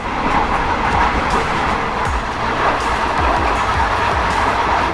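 A train carriage on a morning train to Penang, Malaysia rumbles steadily along the rails, with low clatter from the wheels under a constant roar of motion.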